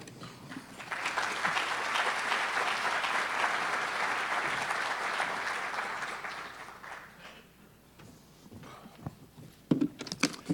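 Conference audience at FIG 2013 applauding to welcome speaker John Spirk, a steady wash of clapping from a seated crowd that swells, holds for several seconds, then thins out into scattered claps and room noise.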